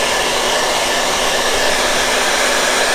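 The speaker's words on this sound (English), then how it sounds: "I'm going to go ahead and turn up my hairdryer to the hot setting" A hair dryer on its hot setting blows steadily at high power, a continuous loud whoosh with a faint motor whine running unchanged throughout, no voices.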